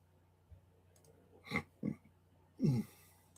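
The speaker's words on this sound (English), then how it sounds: "now I'm burping up breakfast burrito and chocolate chip mint coffee." Three short, low, guttural burps in quick succession from a person after a breakfast burrito and chocolate chip mint coffee, the last one longest and loudest, in a quiet room.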